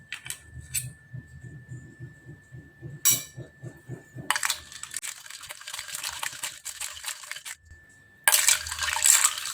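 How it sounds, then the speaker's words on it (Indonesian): A spoon stirs an iced pandan coconut drink, giving bursts of clinking ice against a glass and liquid sloshing, separated by short quiet gaps, close and moderately loud. "Nah, ini kita aduk Sabaragam."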